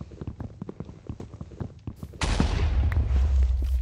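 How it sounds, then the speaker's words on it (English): A loud explosion in the Minecraft video game bursts in about two seconds in and rumbles on heavily to the end, following a stretch of rapid tapping footsteps. "I just heard an explosion and I don't like it."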